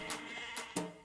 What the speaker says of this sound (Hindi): भेड़ बकरियां भी उतरेंगी।